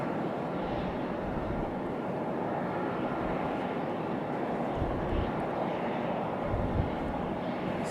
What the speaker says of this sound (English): This one coming in from Toronto on a CRJ 900LR